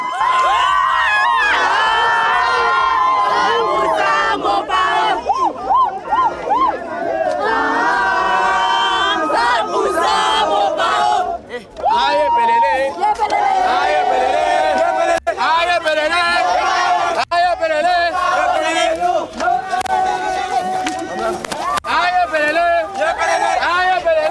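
A large crowd of fans awaits a music star's arrival in Abidjan, a dense wall of cheering, whoops and shouting chatter sustained throughout, loud and close with music-like tones woven in.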